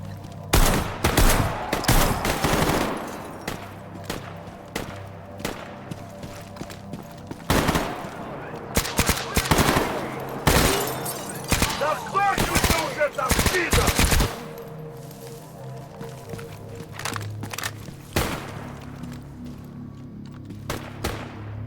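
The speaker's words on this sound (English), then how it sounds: "What are you shooting at?" Gunfire in the video game Stalker Gamma, with loud bursts of automatic fire and single shots that come in clusters, echoing over a rumbling background. A player talks in the gaps between bursts.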